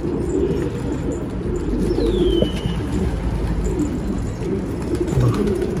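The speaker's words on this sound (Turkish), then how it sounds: "Bak gene bunu bak karalaca ötüyor şimdi" A black pigeon coos once, clear and close over steady outdoor background noise, with a brief higher chirp from another bird.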